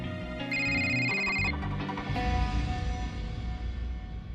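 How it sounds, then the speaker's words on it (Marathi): A telephone ringtone plays as a loud, continuous electronic melody of bright repeating tones, layered over dense musical backing, with no talking. "घ्या घ्या फोन घ्या तुम्ही."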